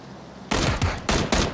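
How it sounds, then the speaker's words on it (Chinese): Gunfire in the PUBG video game: a few sharp, loud shots crack in quick succession after a short quiet start, with no talk. "被打了一枪"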